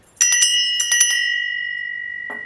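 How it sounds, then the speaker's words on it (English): A handbell rings alone in two quick bursts of shaking, leaving a bright, clear metallic tone that sustains and slowly decays, with a soft knock near the end. "is this handbell,"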